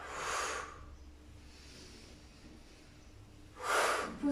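A deep yoga exhale pushes out as a loud, breathy rush at the start. After a quieter pause, another strong breath follows near the end, with no talking.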